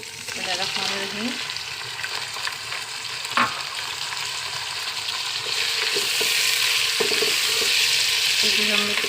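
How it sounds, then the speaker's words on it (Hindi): Tomatoes drop into a pan of hot garlic and ginger, setting off a loud continuous sizzle that swells toward the end, with stirring scrapes and clinks of a spoon on the pan close by and no talk. "लहसुन अदरक जो है उसको हमने अच्छे तरीके से कुक कर लिया है। अब हम इसमें ऐड करते हैं टमाटर।"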